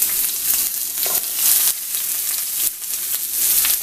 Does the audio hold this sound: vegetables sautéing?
yes